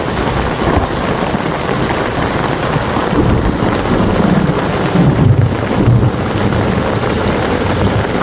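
Thunder rumbles through a hailstorm over steady, loud rain and hail, with low rolling booms swelling around the middle and end, and no voices.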